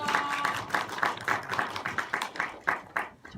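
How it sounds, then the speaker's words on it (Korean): A small audience at an indie film event in Cheonan claps in a steady rhythm, fairly close and moderately loud, with distinct regular beats that gradually soften toward the end. "그래서 이 영화를 함께 해주심에 큰 박수로 마무리하도록 하겠습니다."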